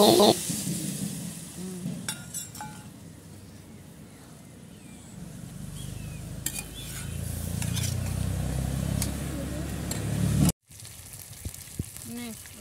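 Soybean chunks fry with spices in a pan for a soybean dopiyaza, giving a steady, close sizzle with occasional stirring scrapes that continues for several seconds before a brief cut and a quieter tail.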